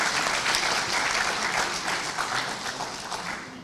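Audience applause at an annual general meeting in Abuja, a dense, even round of clapping from a sizable crowd that stays strong and eases slightly toward the end.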